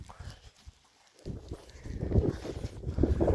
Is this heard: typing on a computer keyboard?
no